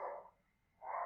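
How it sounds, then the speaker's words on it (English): A pet dog barks in a room, two short bursts at the start and end of the moment with a quiet gap between, moderately close and fairly soft. "I don't know if you guys can hear him barking."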